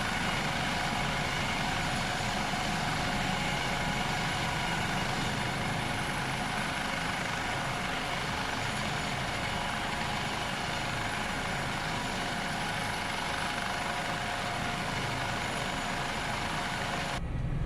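A simulated Airbus AS365 Dauphin helicopter in Microsoft Flight Simulator idles on the ground with a steady, loud, broadband turbine roar and whine that holds unchanged almost to the end.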